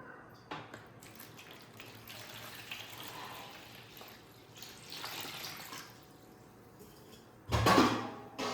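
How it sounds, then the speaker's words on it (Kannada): Tap water running into a container, a steady faint hiss and splash that swells near the end, heard without any talk. "ಮೊದಲಿಗೆ ಈ ಡಬ್ಬಕ್ಕೆ ನಾನು ನೀರು ತುಂಬಿಸ್ತೇನೆ."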